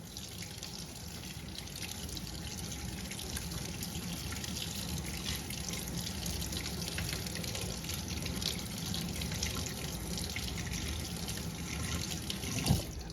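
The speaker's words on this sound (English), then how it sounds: "I'm just gonna wash it, because you don't want that lime flavor on your eggs" Tap water runs steadily into a sink while a chicken egg is rinsed under it, a soft continuous splashing hiss with a faint clunk near the end.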